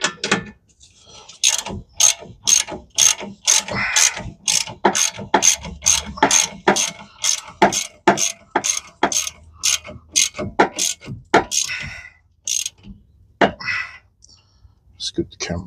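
A socket wrench ratchets in long runs of rapid, evenly spaced clicks while a rear strut is swapped on a 2008 Toyota Highlander. The clicks are close and loud, and they slow into scattered bursts toward the end. A voice talks in between them.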